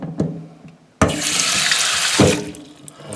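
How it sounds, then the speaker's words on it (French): Tap water pours steadily into a sink, rinsing tomato seeds. After a brief quiet start with small knocks, a loud, continuous splashing rush begins and holds close by until the end, with no talking. "Et là, on va procéder au rinçage."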